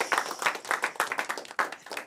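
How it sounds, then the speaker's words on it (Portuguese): Applause from a small audience at a forró show in Rio de Janeiro, a short burst of close, uneven hand claps with no talk over it. "Uma salva de palmas para Marcelo Mimoso e Neidinha da Rocha"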